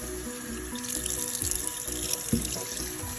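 A kitchen tap runs water into a container for dumpling dough, a steady close rushing stream with light trickling and splashing throughout.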